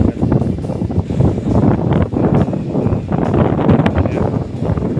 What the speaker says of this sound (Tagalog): lakas ang hangin dahil sa bagyo